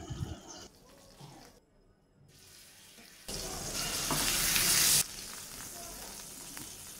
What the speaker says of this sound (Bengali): বাকি যেগুলো ছিল ওগুলোকে ঠিক এভাবে করেই ভেজে নেব